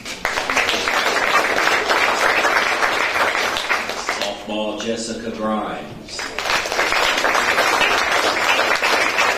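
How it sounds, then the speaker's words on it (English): Applause for college all-conference softball award winners at a board meeting, loud sustained clapping from a crowd, briefly dipping as a voice reads out a name over it, then swelling again. "in a big round of applause, congratulate our all-conference award winners"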